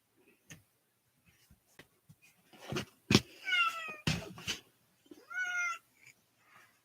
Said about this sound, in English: The cat's meowing at my door.